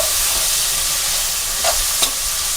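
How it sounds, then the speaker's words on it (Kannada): Tomato frying in a pan for a restaurant-style palak paneer gravy, a steady close sizzle with a couple of brief stirring scrapes. "ಟೊಮೊಟೊ ಆ್ಯಡ್ ಮಾಡ್ಕೊತಾ ಇದ್ದೀನಿ."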